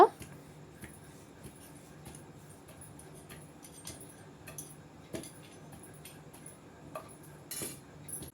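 Moringa leaf powder being mixed in a pot, with a spoon tapping and scraping the metal in light, irregular clinks close by, and a voice talking faintly underneath.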